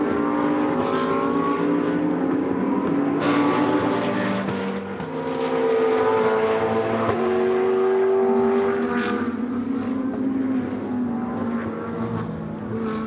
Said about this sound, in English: That is the Brabham, the BT63. Great looking car, great sounding car.